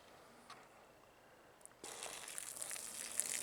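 Water suddenly gushes from a newly installed well pump at a cabin, bursting on after near-silence broken by a few faint clicks and then pouring loudly and steadily.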